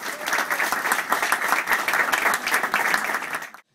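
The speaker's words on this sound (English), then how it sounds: "let's give him a round of applause." An audience gives a round of applause for a guest speaker at a gym opening party, brisk, closely miked clapping from a modest crowd that swells briefly and then stops abruptly.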